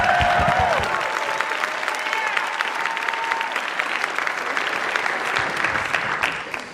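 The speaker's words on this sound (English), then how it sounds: "Let's give Rachel and Jenny a round of applause." An audience gives a round of applause for two performers at the start of a show, a dense sustained wash of clapping lasting throughout, with a brief musical tone fading under it at the start.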